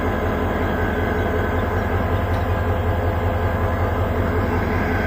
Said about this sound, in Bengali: এটা হইল তিস্তা ট্রেন, আন্তনগর ইন্টারসিটি।